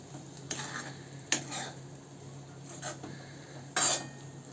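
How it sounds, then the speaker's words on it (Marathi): A utensil stirring gram flour (besan) into a cooking pan, with a few quiet, separate metallic scrapes and taps spaced over a soft background hiss. "त्यामध्ये ओतणारे बेसन टाकल्यानंतर चांगलं मिक्स करून घेऊया."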